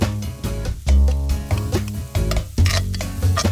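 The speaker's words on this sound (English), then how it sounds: "Let it saute a couple of minutes, and as it begins to soften, add in 3 minced garlic cloves." Chopped onion and minced garlic sautéing in a hot pan, with close clinks and scrapes of a utensil stirring against the pan over a soft sizzle, no voices.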